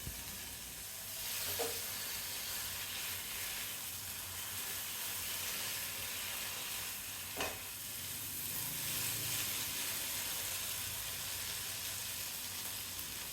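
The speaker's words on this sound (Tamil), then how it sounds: "பொடிசாக வெட்டின புதினா அரை கப் அளவு, மல்லி இலையும் அரை கப் அளவுக்கு, அதையும் சேர்த்து வதக்கணும்." Finely chopped mint and coriander leaves sauté in masala for a Tamil masala chicken fry, giving a steady, close sizzle with faint stirring scrapes and no talking.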